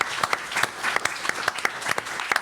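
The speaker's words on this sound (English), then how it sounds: "one more round of applause for the panelists" Audience applause for panelists after a Supreme Court preview event at UNC, a short burst of steady clapping from a modest crowd with scattered sharper individual claps, no talking.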